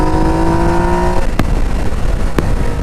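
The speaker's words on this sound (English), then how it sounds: "like that throaty intake of the MT-09" Yamaha Niken GT three-wheeled motorcycle with the MT-09 three-cylinder engine, pulling in third gear near 6,000 RPM, a loud close throaty engine drone with a steady tone that breaks into rougher intake noise and two brief sharp clicks.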